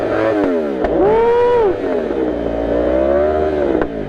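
A Yamaha R1 sport motorcycle fitted with an Akrapovic exhaust revs up close and loud, the engine note climbing and falling in two sweeping blips before settling into a rough idle.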